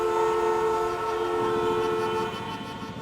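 An LRT light rail train in Manila runs close by, a loud sustained metallic hum with strong steady tones and rumbling wheels that eases slightly toward the end.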